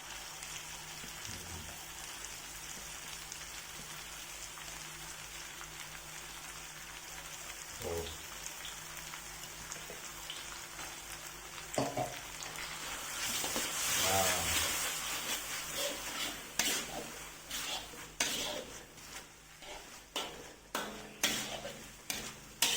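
Ground spice paste sizzling in a hot pan over a steady crackle, then stirred with a utensil that scrapes and clanks against the metal in an uneven rhythm, loudest toward the end.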